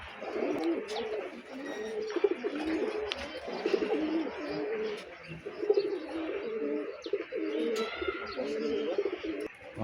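Racing pigeons at a pigeon club coo repeatedly in low, throaty rolling phrases, close and fairly soft, with occasional chirps and faint background sounds, no speech.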